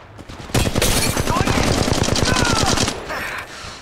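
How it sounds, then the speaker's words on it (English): Rapid automatic gunfire from the Apex Legends Mobile video game, loud and close, rattles in a continuous burst of evenly spaced shots for over two seconds before tapering off. "Open fire. Another squad is attacking us."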